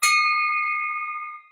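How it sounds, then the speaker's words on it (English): A single bell struck once at a Rotary Club meeting rings out clear and bright, then holds a steady pure tone that slowly fades over about a second and a half. "Jack McAvoy, rings the bell for you."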